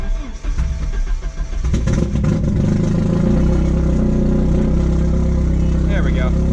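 Porsche 944 cranking and firing up after two weeks unused, then settling into a deep rumbling idle through a fully derestricted 2.5-inch Lindsey Racing exhaust with MSDS headers, loud and close, with brief irregular clatter before the steady idle.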